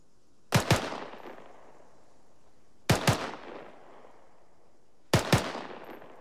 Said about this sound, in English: a rapid rate of fire would sound something like this